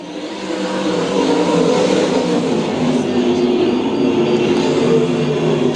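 USAC sprint cars racing on a track at night, engines roaring steadily loud as the pack rushes past, a dense, continuous motor drone with no talking.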